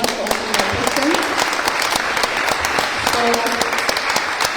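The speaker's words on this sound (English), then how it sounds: "another round of applause for answering all those questions" Audience applause at a mayoral election hustings, a steady wash of many hands clapping through the whole stretch, with some voices talking faintly underneath.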